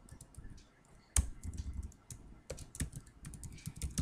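Typing on a computer keyboard, a close, irregular patter of key clicks with occasional louder keystrokes, steady for a few seconds with no speech.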